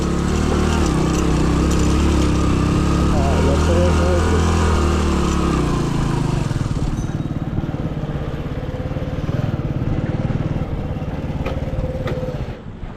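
A vehicle engine labours uphill on a mountain pilgrimage route toward Kedarnath, a steady loud drone with low rumble that shifts to a rougher, pulsing tone midway, continuous and close throughout.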